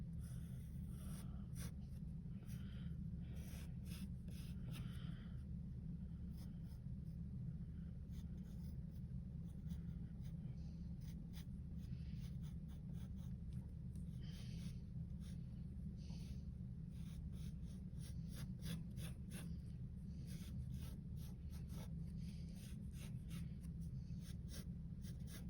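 Pencil scratching across paper while sketching an elephant, a close, continuous series of soft strokes and scribbles over a low background hum.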